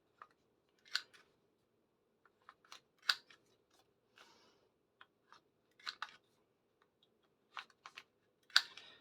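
Scissors snip at the corners of a small paper circle, a series of short, crisp, close cuts in irregular bursts with quiet gaps between them.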